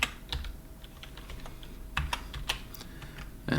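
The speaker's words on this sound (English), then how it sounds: "So in the first name, we're going to go ahead and type Osborne" Keys clatter on a computer keyboard in a short, quiet burst of typing, a few sharper taps standing out near the end.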